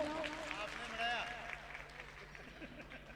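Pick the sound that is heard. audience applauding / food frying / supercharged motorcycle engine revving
audience applauding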